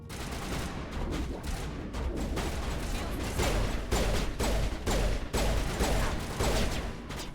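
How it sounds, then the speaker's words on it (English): Rapid bursts of gunfire in the Mass Effect video game, repeated sharp shots in uneven volleys with heavy low rumble throughout, loud and close, no voices heard. "I'm taking fire."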